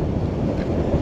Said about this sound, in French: Le vent est glacial.